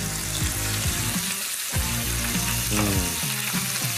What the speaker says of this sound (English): Parma ham fried nice and crisp like that is incredible.